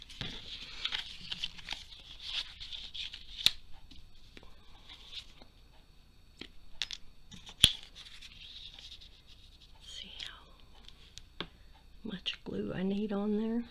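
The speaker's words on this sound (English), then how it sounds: "then we're going to just kind of cut it up this side" Scissors cut up the side of a paper tag in a quiet room, making faint, scattered snips and scratchy rustles close up, followed by a brief bit of talking near the end.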